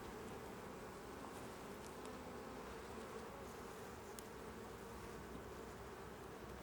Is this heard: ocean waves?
no